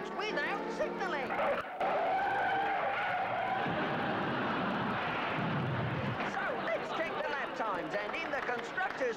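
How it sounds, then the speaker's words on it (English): Racing cars skid with long tire squeals over roaring engines, made as a comedy sketch sound effect; the squealing runs loud and continuous through the clip, and a commentator-style voice talks over it. "Senna makes his move, but Granddad's changing lanes without signalling"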